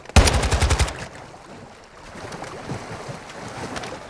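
A loud, rapid burst of automatic gunfire opens a Modern Warfare 2 raid fight, then fades to quieter rumbling game ambience with faint scattered sounds.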